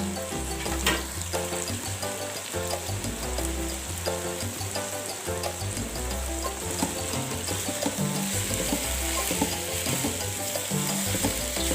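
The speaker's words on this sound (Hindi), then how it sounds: "अब आँच को, फ्लेम को तेज़ ही रखना है, स्लो नहीं करना। शिमला मिर्च शामिल करेंगे। दोनों सब्जियों को अच्छे तरीके से फ्राई करेंगे।" Capsicum and other vegetables stir-frying on a high flame for chicken chow mein, a loud, steady sizzle with scraping stirs throughout and no talking.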